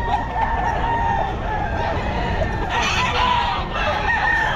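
A Sweater gamefowl rooster crows loudly and close at a busy pet market in Bocaue, its call ringing out over clucking hens and the murmur of the crowd.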